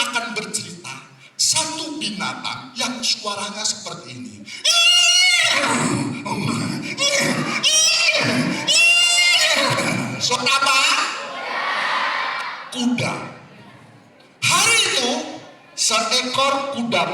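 A voice imitates a galloping war horse's neigh, loud shrill whinnies broken by bursts of talk, with children shouting and cheering in a school hall.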